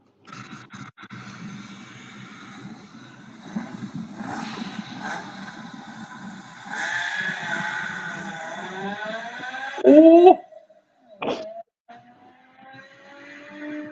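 An Alfa Romeo Busso V6 engine revs in short bursts, rising and falling in pitch over several seconds, with a sharp loud rev near the end before quieting; a man's brief exclamation is heard.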